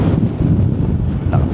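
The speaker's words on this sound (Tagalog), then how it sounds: "Lakas ng hangin." Heavy wind buffeting a microphone on Fremont Street in downtown Las Vegas, a constant low rumbling roar that fills the whole clip with no break.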